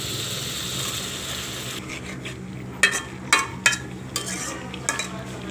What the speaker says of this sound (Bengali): এবার এর মধ্যে সিদ্ধ করা লতিগুলো ঢেলে দেব।